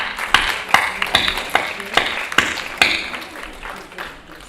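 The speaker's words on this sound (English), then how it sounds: "let's have a big round of applause" An audience at an NCERT foundation day event claps after a student presentation: sharp, uneven hand claps ring out with a slight echo in the hall and gradually thin and fade toward the end.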